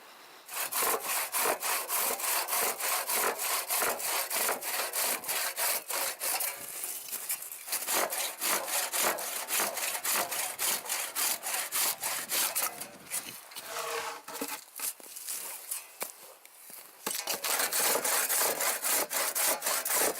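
A hand saw cuts through firewood at a winter camp in steady back-and-forth strokes, rasping close and loud, pausing briefly a few times before resuming.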